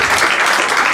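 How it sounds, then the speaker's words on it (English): Audience applause at a New York comedy club during a stand-up set, a dense steady wash of many hands clapping at once, loud and continuous for about a second with no voices over it. "Don't clap too loud, I'll get scared."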